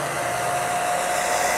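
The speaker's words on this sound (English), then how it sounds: "Sorry for the blow dryer." A handheld hair dryer blows steadily to dry spray paint on a thrifted lamp being given a faux vintage brass finish, a loud constant whoosh with a steady whine, close up and with no talking.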